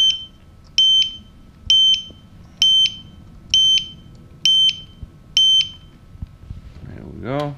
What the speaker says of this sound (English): To get rid of the beeping, you have to plug in a battery.